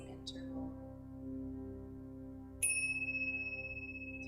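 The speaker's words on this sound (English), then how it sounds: "So if you're following the chimes, that's hold." A single bright chime rings out to mark a breath hold in a guided breathing exercise, striking sharply and then ringing and slowly fading over a soft, steady background drone.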